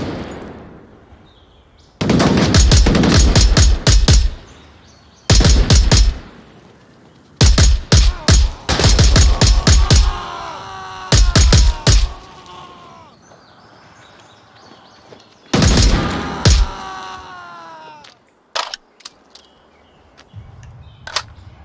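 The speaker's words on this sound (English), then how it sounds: "where are they shooting me from?" Bursts of video game gunfire crack out in rapid clusters, loud and close, separated by brief quiet gaps, with faint echoing tails between volleys and no talking over them.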